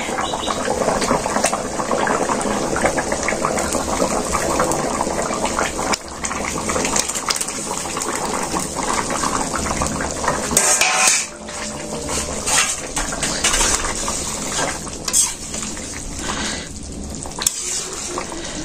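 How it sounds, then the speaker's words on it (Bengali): A pot of curry bubbles and boils steadily as fish is added, a loud continuous watery rush close up, with a voice speaking intermittently over it in a Bangladeshi village kitchen. "তরকারিটা হয়ে গেছে প্রায়, জলটা আর কি জাল হইলো। মাছটি দিয়ে দিই।"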